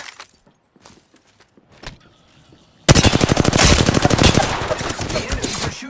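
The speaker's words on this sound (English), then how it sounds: "The enemies are shooting at me." Sudden loud automatic gunfire erupts in Apex Legends, a rapid sustained volley of shots fired by enemies that follows quiet footsteps and faint game sounds.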